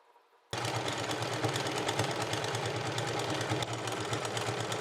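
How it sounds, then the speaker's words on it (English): A sewing machine runs steadily, stitching double-folded side seams on a fabric top, with a fast, even mechanical whir that starts abruptly after a brief quiet moment and continues loud and unbroken. "for the side seams, I'm just going to fold them twice and stitch"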